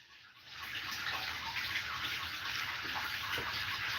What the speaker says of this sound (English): Cannot hear over running water.